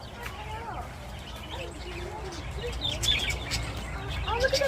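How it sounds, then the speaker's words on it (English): Flock of budgies (parakeets) at an Indiana zoo aviary, chattering and chirping continuously in rapid overlapping warbles and tweets, fairly close, with voices talking over them. "You hear them all chattering and chirping?"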